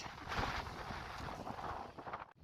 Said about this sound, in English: Oh, I really wish that wind would die down.